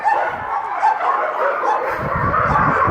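Many dogs bark, yip and whimper at once in a loud animal shelter kennel section, a continuous dense din with overlapping yelps throughout.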